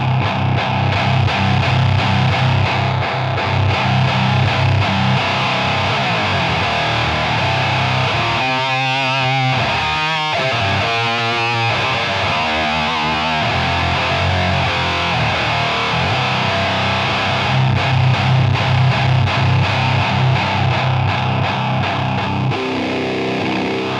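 Electric guitar through a GCI Jugendstil Heavy Metal fuzz pedal with its EQ engaged, thick saturated fuzz chords and single-note lines sustained loudly throughout, with a few choppy staccato bursts in the middle.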